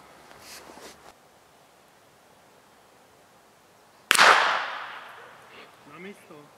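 A single sharp report from a Fox S 200 pistol with a 200 mm barrel, fired outdoors at a 28 m range, cracks loudly after a quiet stretch and trails off in a decaying echo, followed by a brief voice.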